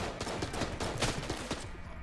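Rapid bursts of gunfire in the video game Enter the Gungeon crackle continuously for a couple of seconds, dense and loud, with no voices.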